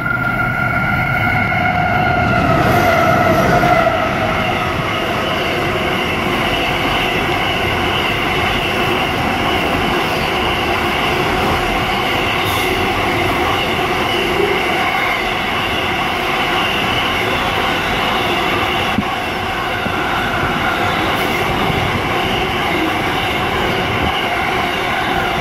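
A freight train passing at speed through platform 1 at Tuggerah station, a loud, steady roar of wagons and rolling wheels with rhythmic clatter and faint squeal, sustained for the whole stretch with no talking.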